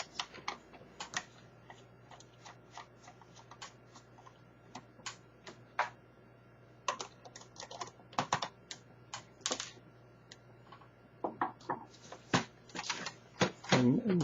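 Small screws being backed out of the plastic chassis of a Hasbro Interactive R2-D2 toy, a string of sharp, close clicks and ticks in uneven bursts, fairly quiet with no talking.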